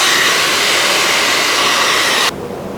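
A heat gun blows steadily on vinyl wrap over a car door, a loud, constant whooshing hiss close by that cuts off abruptly near the end.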